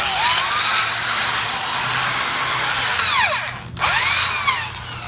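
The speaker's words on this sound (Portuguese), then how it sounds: "É importante também testar sempre a furadeira e o martelete" An electric drill under repair runs steadily in reverse during a test, a close high whine that briefly dips and restarts near the end.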